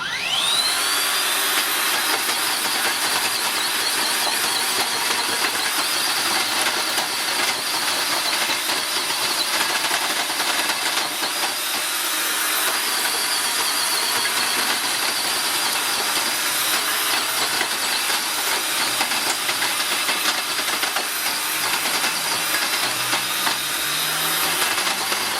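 Makita cordless power head cultivator tilling hard, dry clay, a loud continuous motor whine with churning, scraping soil noise that holds steady throughout.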